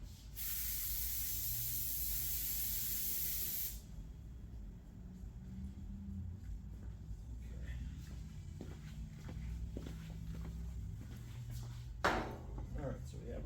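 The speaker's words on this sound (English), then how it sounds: "I'll give that a spray with our brake and parts cleaner." A loud, steady aerosol spray of brake and parts cleaner hisses for a few seconds during an oil change on a 2024 Kove 450 Rally motorcycle, then gives way to quieter shop sounds and light handling noises.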